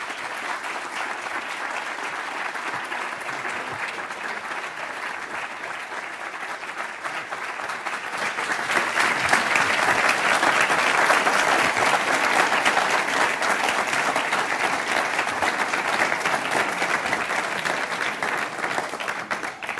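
An audience at the Stanford Graduate School of Business applauds to welcome Ted Turner: steady clapping from a large crowd that swells louder partway through and keeps going for about twenty seconds.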